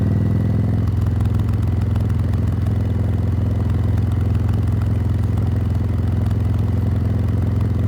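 A road motorcycle ridden off-road gives a steady, loud engine drone with a low rumble and rattling clatter, running continuously without a break.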